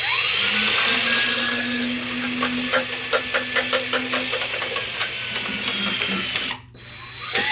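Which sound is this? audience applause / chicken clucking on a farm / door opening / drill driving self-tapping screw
drill driving self-tapping screw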